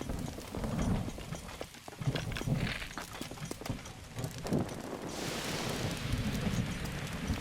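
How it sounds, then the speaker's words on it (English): Rain falling in The Legend of Zelda: Breath of the Wild near Lake Meekar, a steady wash of patter with a few louder thumps, faint and continuous. "Oh, it's raining, so I can't spread a fire anyway."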